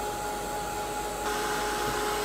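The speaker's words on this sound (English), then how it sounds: "I'm just going to dry it with the heat gun" A heat gun blows steadily on mixed media craft work for a butterfly frame, a loud continuous whooshing hum throughout with no speech.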